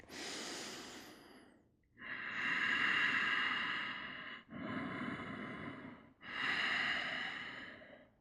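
Strong, deep breaths during a plank pose in a yoga class: three long, loud breathy exhales with short pauses between, close and alone.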